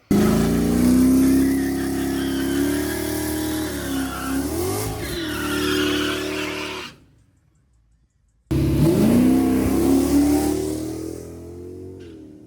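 A drag racing truck launches and accelerates hard down the strip, its engine roaring loud and close, cutting out for about a second and a half of near silence, then roaring again and fading as it pulls away.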